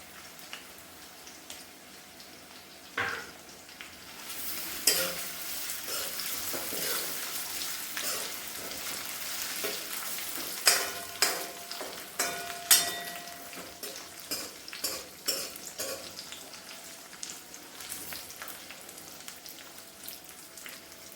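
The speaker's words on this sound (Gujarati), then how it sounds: "બટાકાને એકદમ ધીમી ગેસે સાંતળવા દઈશું।" Potatoes sautéing on a low flame for sabudana khichdi: a quiet start gives way to a soft, steady sizzle with occasional spoon knocks and scrapes, fairly faint, no voices.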